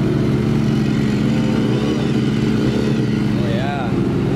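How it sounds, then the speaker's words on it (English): Several race motorcycles, including a BMW S1000RR, idle together in a racing paddock pit area, a steady low rumbling drone that fills the whole clip at close range with a voice talking over it. "It's a thunder in the pits of all the bikes idling."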